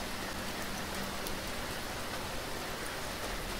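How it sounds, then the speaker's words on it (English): Steady, dense rainfall in the video game BeamNG.drive hisses evenly throughout, a constant wash of drops with no other sounds. "the sound of the rain goes everywhere, and that's a good thing."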